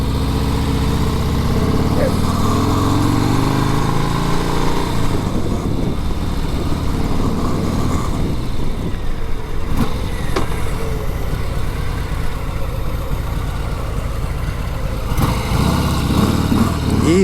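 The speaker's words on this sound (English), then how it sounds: "Easy motorcycle to ride." Engine of a 2020 Harley-Davidson Sport Glide motorcycle while riding, a steady low rumble running throughout with wind and road noise, heard under a rider talking.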